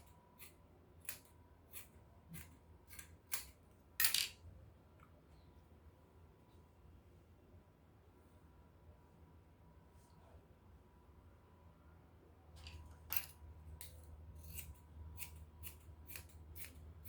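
Scissors snip fabric for a shirt dress in quick bursts of crisp close cuts, with a pause in the middle before another run of rhythmic snips, against a quiet room.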